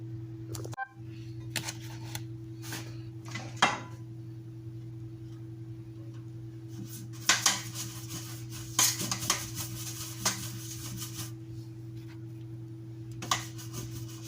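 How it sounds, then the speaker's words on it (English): Butter being mixed in a bowl for a traditional baked toto, giving soft scraping and clinking utensil strokes at an irregular pace, close but fairly quiet, over a steady electrical hum. "So I'm going to continue as I mix my butter."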